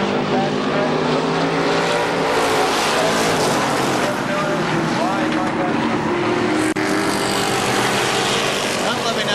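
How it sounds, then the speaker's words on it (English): Several race cars run together in a heat race at KilKare Speedway, engines roaring loud and steady throughout, with a blended multi-car drone and no break. "it's the only 4 cars that are left running in this heat race"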